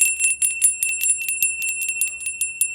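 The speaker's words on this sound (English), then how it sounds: "it's a bell." A small bell rings in quick, repeated jingling strikes, bright and close, sounding alone without any voices.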